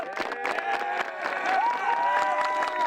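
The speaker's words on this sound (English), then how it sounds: "Clap it up for Santulli." Football crowd at a high school regional final clapping and cheering, loud rhythmic claps with shouts and whoops mixed in, close and busy, with voices calling out over the noise.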